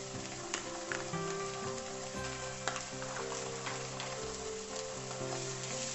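Onion and ginger-garlic paste sauté in a pan with a continuous moderate sizzle, occasional light stirring taps, and a steady humming tone in the background.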